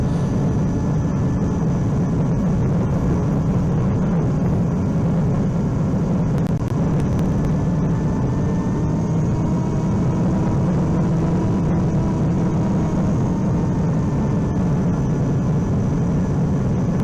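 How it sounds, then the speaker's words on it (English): A steady, droning RC plane motor hums continuously with slight pitch rises and falls as it revs, loud and unbroken throughout. "you will be able to hear the motor rev up in the background"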